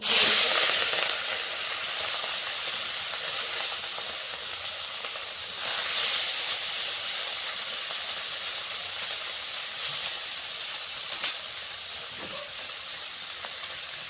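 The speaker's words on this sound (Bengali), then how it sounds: "ওদিকে মাছটা ভাজা হচ্ছে" Small fish rubbed with turmeric and salt fry in hot oil in a pan, giving an even, continuous hiss that holds for the whole stretch without talk.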